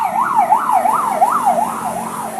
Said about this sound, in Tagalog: May ambulansya na po sumusundo.